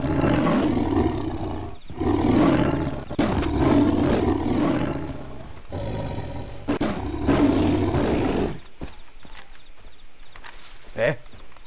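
A tiger roars in Far Cry 3 game audio, with bursts of low growling that rise and fall through most of the span while someone talks over it, then the sound thins out toward the end.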